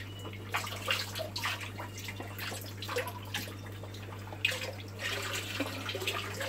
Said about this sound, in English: I'm just going to pour this in.